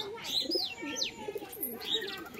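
Pigeons in a loft coo in low, rolling phrases, mixed with sharp high chirps, heard fairly close but quietly, with a voice faintly present alongside.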